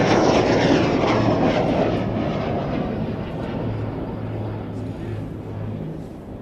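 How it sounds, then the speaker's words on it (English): Avro Vulcan and Avro Lancaster flying together at an air display, a loud broad roar of jet and piston engines that swells at first and then holds steady, with a droning engine hum beneath. "The Vulcan catches up the Lancaster."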